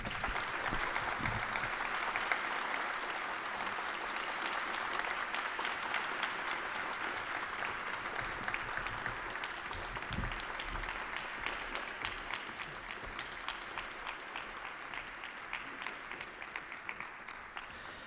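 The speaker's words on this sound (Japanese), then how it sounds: "皆様盛大な拍手をお願いいたします" Sustained applause from a conference audience at the close of a Japanese panel discussion on digital society and new markets, a steady, moderately loud patter that continues without a break for the whole stretch.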